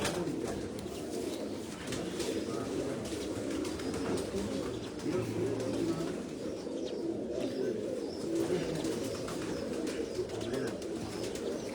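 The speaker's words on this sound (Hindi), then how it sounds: "ये कबूतर देखो भाई।" Pigeons cooing steadily on a rooftop, a dense low murmur of many birds close by with occasional chirps, continuous throughout.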